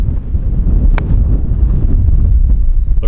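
Steady wind buffets the microphone on a golf course, a loud, continuous low rumble that lasts throughout with only one faint tick, and no one speaks.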